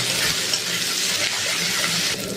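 Four green chilies frying in oil in a wok for egg tarka, a dense continuous sizzle with light stirring and scraping, close and steady.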